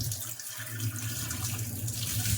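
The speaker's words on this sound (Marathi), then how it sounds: "आता मी हे वरचं पाणी सगळं नितळून टाकून देते" Water steadily poured off the top of soaked jowar flour settled in a vessel, a continuous close splashing stream with no pauses and no talking, made while preparing jowar ambil papad.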